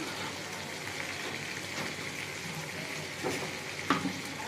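Spices with turmeric, chilli powder and salt sauté for an aar fish curry, a soft steady sizzle in a pan with faint stirring clicks and a brief knock near the end.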